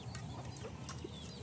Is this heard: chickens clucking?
yes